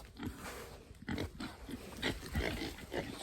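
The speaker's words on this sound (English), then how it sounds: "Happy pigs." Pigs grunting on a farm with deep mulch bedding, a steady run of close, rough snorts and grunts that continues throughout without any talk.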